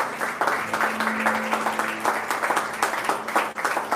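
A church congregation applauds in place after a prayer, a sustained wash of many hands clapping at a brisk, loud pace, with a low held tone beneath it.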